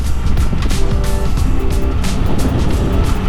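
A 2022 Triumph Trident 660 motorcycle rides along with a loud, steady engine roar and rushing wind noise close to the microphone, continuous throughout, with no talking.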